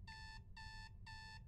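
Repeating electronic alarm tone from the horror video game Is Simon There, three steady harmonic beeps in an even on-off rhythm over a low rumbling background.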